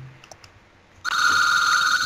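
A telephone suddenly starts ringing loud and steady after a second of near silence and faint background noise, in the middle of a French-speaking group's online game session.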